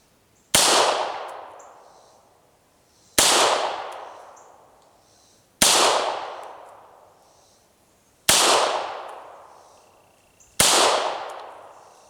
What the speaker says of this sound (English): screw it, we'll shoot at it down there.